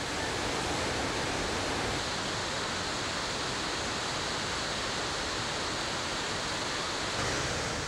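Massive Nile waterfalls, a stretch 400 meters wide plunging 50 meters, give a steady, dense roar of falling water that stays loud and unbroken throughout, with no voices.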